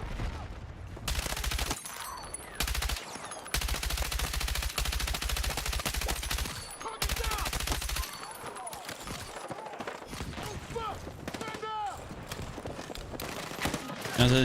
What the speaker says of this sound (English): Sniper LMG. I mean, this thing, you can really hit some good shots with it.